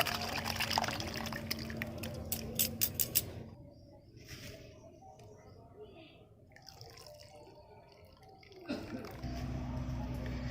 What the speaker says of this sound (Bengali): এবার আমি ছানা থেকে জলটা আলাদা করে নেব।